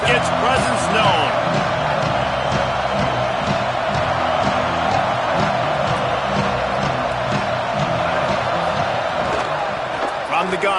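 A dense stadium crowd roars at a BYU versus Clemson college football game, a loud, steady wash of voices and cheering with a commentator talking over it.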